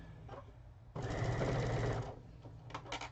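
A sewing machine labours over a bulky quilt seam during Christmas-in-July sewing, a low steady motor hum swelling into a loud, dense stitching run for about a second before easing back to quieter whirring.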